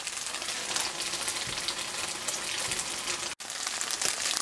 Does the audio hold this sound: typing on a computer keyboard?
no